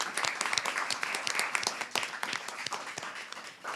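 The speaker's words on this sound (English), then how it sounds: "Another round of applause for all of them." A comedy night audience at Belafonte applauds, many individual hand claps in a lively, uneven patter with sharp close claps standing out, sustained for several seconds.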